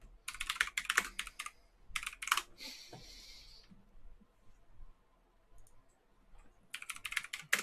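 Typing on a computer keyboard in quick bursts of clicky keystrokes, with pauses between bursts and a brief softer scraping sound in the middle, close and fairly quiet.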